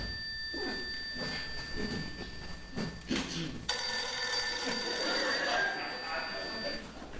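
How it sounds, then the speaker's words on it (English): A telephone rings with a steady electronic bell tone, sounding continuously and fairly loud, with indistinct room noise and voices around it and a louder burst partway through. "Answer the telephone."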